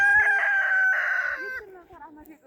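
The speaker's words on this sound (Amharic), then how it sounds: "ዶሮ እየጠበቀኝ ነው።" A chicken on a countryside homestead gives one close, loud crow lasting over a second, followed by a few soft clucks and faint voices.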